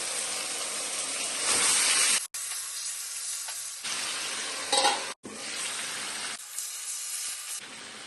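Marinated chicken drops into hot spiced oil with onion and tomato, and loud bursts of frying and sizzling follow, broken by brief gaps and stirring as the pan settles into a steady hiss.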